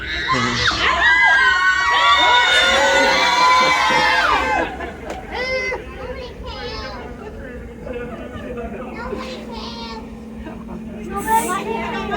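A crowd of passengers on a ride shrieks and shouts at once, loud and chaotic, then fades into scattered chatter and yelling.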